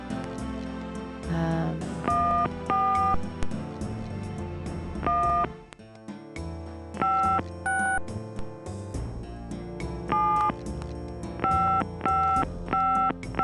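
Telephone keypad tones beep in quick groups of dual-pitched presses as a number is dialed on a phone in the Gabriel Knight adventure game, with a steady tone and music running underneath.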